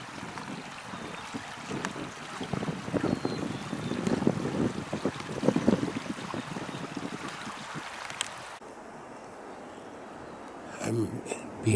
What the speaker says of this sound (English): It's always great to hear and see the ripples in the creek